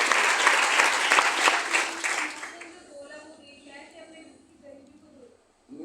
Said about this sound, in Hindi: एक बार जोरदार तालियां हेमलता जी के लिए होनी चाहिए प्लीज